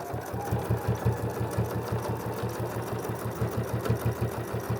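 Fast, even rhythmic whirring and thumping of a sewing machine stitching a quilted potholder made from jelly roll strips, close and continuous with no talking.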